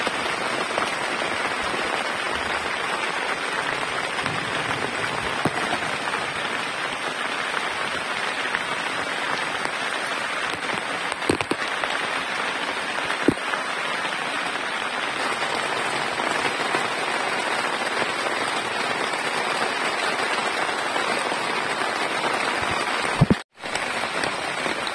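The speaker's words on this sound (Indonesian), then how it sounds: "Cuacanya sekarang hujan lebat." Heavy rain pours onto a bamboo camping shelter in a storm, a loud, dense, unbroken hiss of drops lasting throughout, with a couple of brief sharp knocks and a sudden dip near the end.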